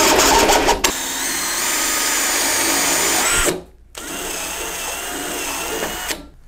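A power drill whines steadily as it bores through a wooden fire stop between wall studs, running in two long loud bursts with a short pause between them, close up and without speech.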